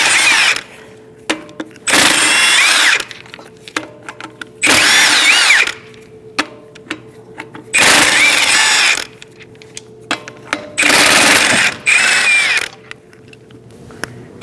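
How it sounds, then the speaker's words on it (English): Power tool, likely an impact wrench with a 19mm socket, spinning lug nuts off the front wheel of a 2006-2011 Chevrolet HHR: five loud, close bursts of about a second each, with quieter clicks and handling noise between them. "Using a 19mm socket, we're going to take off the lug nuts."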